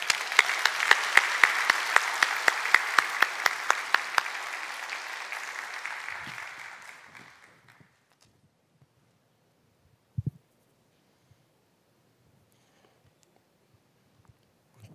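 A church congregation at a Sunday worship service applauds to welcome a high school student forward. Dense clapping lasts about seven seconds, then fades into near silence broken by a few faint thumps and shuffles.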